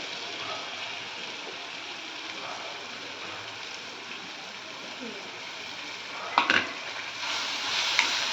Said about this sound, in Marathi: हे देखील आपल्याला छान परतायचं आहे कांद्यासोबत